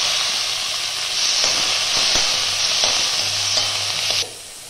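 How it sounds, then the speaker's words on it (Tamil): Vegetables sautéing in hot butter in a pan for creamy pasta, a loud steady hiss with intermittent spatula knocks and scrapes, close up, cutting off abruptly near the end, with no voices. "இப்போ இந்த வெஜிடபிள்ஸ் போட்டு கொஞ்சம் வதக்கிக்கலாம்"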